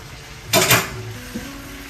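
Sausage, rice and sour cream stirred together in a bowl, a loud metallic clink and scrape of a utensil against the bowl, brief and close, then a fainter knock.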